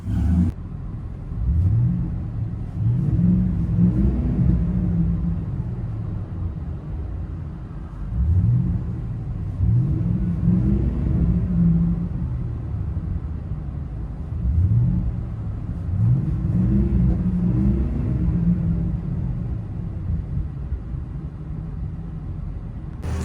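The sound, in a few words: Ford F250 6.2L V8 Flowmaster exhaust heard from inside cab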